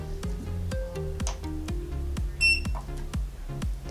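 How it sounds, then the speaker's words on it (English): A GJS Ganker EX battle robot joystick controller gives a short high electronic beep as it switches on, a single bright tone cutting over a steady rhythmic background of music-like pulses. "you should hear a beep"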